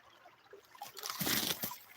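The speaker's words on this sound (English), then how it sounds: "It's like the water sliding across the top of the ice and then dropping." Water trickles over ice and splashes in short bursts, building to a louder sloshing rush near the end, close by with no voices, in the Alaskan bush.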